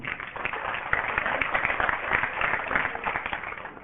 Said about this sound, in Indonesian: Tepuk tangan untuk kebenaran ini.